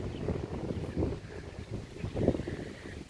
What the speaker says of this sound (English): It is the wind.